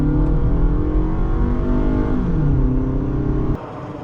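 A 2008 Toyota RAV4 with a 4-cylinder engine accelerates from inside the cabin, its steady engine drone rising in pitch through the revs, then dropping as the throttle eases near the end.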